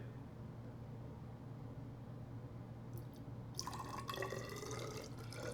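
A low steady hum, then a thin stream of terra sigillata clay slip begins pouring and splashing into a container, faint and close.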